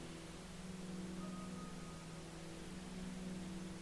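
Pink noise ambient wash, a steady broadband hiss with a faint low hum, holding even and unbroken throughout with no voices.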